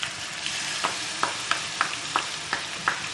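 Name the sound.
minced meat frying with ginger garlic paste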